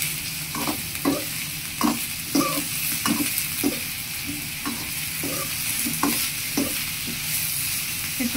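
Eggplant slices frying in a pan, a steady close sizzle with repeated stirring and scraping strokes recurring in a loose rhythm throughout.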